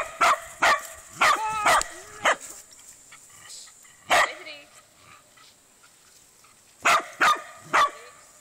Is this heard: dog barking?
yes